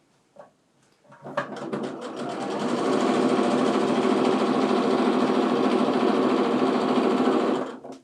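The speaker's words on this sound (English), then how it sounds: "I'm just going to sew until I get about 1/4 inch away from the next corner" A sewing machine stitches quilt fabric for split quarter square triangles. After a brief start it settles into a fast, steady, close mechanical whirr that runs evenly for several seconds, then stops.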